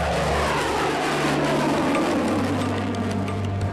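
Military jet aircraft in flight, a steady loud engine roar with broadband rushing noise and sustained low tones shifting partway through, continuous for several seconds with no voices.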